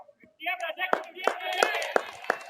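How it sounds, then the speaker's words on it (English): A cricket crowd at a senior final claps and cheers a batsman's fifty, with evenly spaced claps under raised voices, fairly close. "A lot of cheer."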